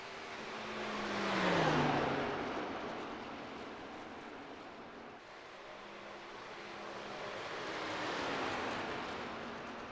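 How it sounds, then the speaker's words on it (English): A race truck on a qualifying lap at Kentucky sweeps past twice, its engine roar swelling in, fading away, then building again as a second distant pass, with no talk. "as we watch this last truck qualify 21st"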